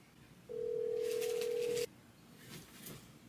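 A single steady tone from a phone call on speakerphone sounds for just over a second, clear and near, followed by faint background noise.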